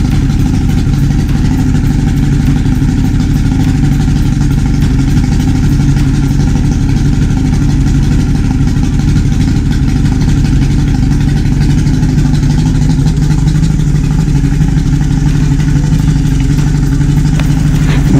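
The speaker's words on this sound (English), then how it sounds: "cylinder number two and cylinder number three are not firing when it's in idle," A Yamaha HPDI outboard engine idles in neutral with two of its cylinders not firing, giving a steady, loud, rough low-pitched running drone that continues unbroken with no talk.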